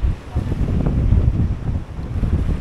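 Strong wind buffets the microphone while sea waves rush and churn close by on the Ilocos Sur coast, a loud, continuous roar with no letup.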